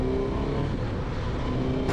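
A 2022 Suzuki GSX-S1000GT litre sport-touring motorcycle engine drones steadily up close, with a quick auto-blipped downshift rise near the end; no talking.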